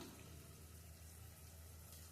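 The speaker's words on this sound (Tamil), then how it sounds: "கொஞ்சமாக தண்ணி கலந்து மிக்சி சாரை அலம்பி" A little water is swished and rinsed through a mixer grinder jar in a kitchen, giving a soft, steady watery rush without a break throughout, quiet and with no talking.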